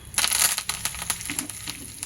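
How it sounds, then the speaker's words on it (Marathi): Curry leaves hit hot tempering oil for curd rice, giving a run of sharp, irregular crackles and spits, loudest at first and then settling into scattered pops. "आता यावर आपण कढीपत्ता घालूया."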